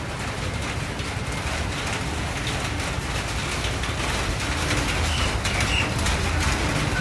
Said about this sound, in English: just kind of maybe enjoy the natural ambience of the rain